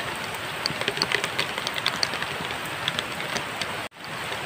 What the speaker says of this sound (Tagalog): lakas ng ulan talaga guys